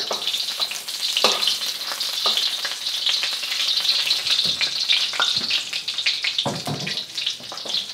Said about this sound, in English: Adding two tablespoons of oil. Adding my ginger. We want to infuse the oil with the ginger flavor.